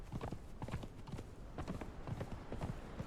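Horse hooves clip-clopping along a path in the video game Conan Exiles, a quiet, regular walking rhythm of repeated hoof strikes lasting a few seconds.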